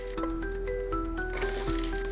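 Chopped onions frying in coconut oil with fennel seeds in a pot for Kongu-style white mutton biryani, a soft steady sizzle with faint clinks of utensils nearby.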